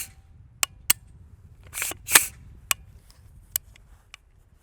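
An AR-15 rifle being function checked after installing a folding stock adapter: a series of sharp, crisp mechanical clicks from trigger and hammer, with a brief rustle of handling between them, close and otherwise quiet.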